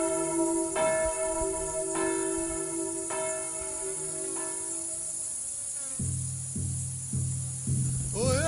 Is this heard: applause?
no